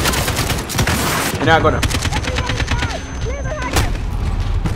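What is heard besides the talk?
gunfire in Call of Duty Modern Warfare video game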